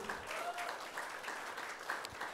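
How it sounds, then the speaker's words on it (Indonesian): Applause from a seated audience at a sales talk, a steady wash of many hands clapping at moderate distance, sustained without a break for a couple of seconds. "Jadi bagi tepukan etomi."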